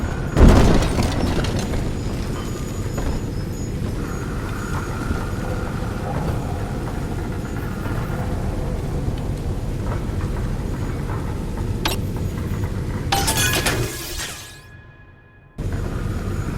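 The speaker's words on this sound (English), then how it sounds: "Take the train to Ryan Amusements." Train ride in Bioshock 2, a steady loud rumbling ride with a heavy boom at the start, continuous mechanical roar, a whoosh near the end and a brief drop to near-silence before the rumble resumes.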